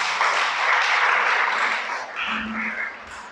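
A congregation at a prayer service breaks into loud, dense applause that swells at first and then thins out, with a few scattered claps and faint sounds near the end.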